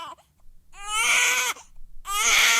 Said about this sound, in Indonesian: kita tahu ini suara bayi baru menangis ya.